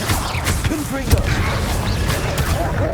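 Fiery Confringo spell blasts from Hogwarts Legacy combat, a cluster of sharp bursts and thumps packed over steady game noise, with a voice talking throughout.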